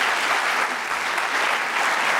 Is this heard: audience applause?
yes